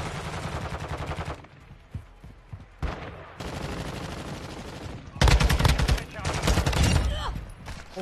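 Video game gunfire: rapid automatic bursts and single shots in loud, clustered volleys separated by short quieter gaps, with the heaviest barrage arriving late.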